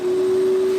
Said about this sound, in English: That is a shop vac you're hearing.